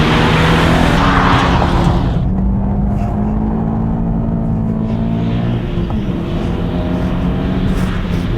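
A loud Mazda MX-5 engine drones close by on a track as tires scrub and hiss through a corner, the engine note shifting while the car slides along.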